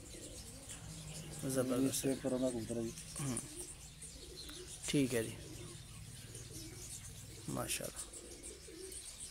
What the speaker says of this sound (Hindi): काफी देर से पुराने कबूतर है हमारे पास